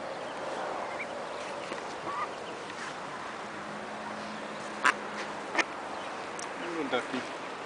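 Small, soft quacks and peeps from baby ducks, fluffy ducklings scattered over faint outdoor background noise, with a few sharper calls standing out near the end while someone talks softly over them.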